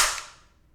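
A Tokyo Marui Desert Eagle airsoft pistol fires and its slide locks back with a loud clang, one sharp close crack that rings out and fades over under a second.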